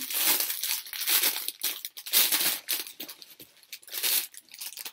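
Plastic garment bag packaging crinkled and crumpled by hand in close, continuous bursts of rustling with brief pauses, no voices.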